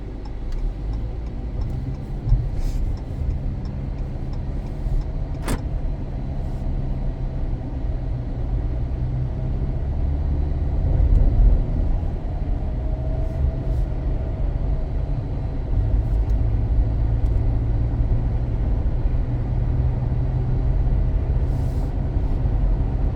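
A 2018 Jeep Cherokee with the 2.4-liter four-cylinder drives and accelerates, a steady low engine drone and road rumble with a brief swell midway, heard from inside the cabin.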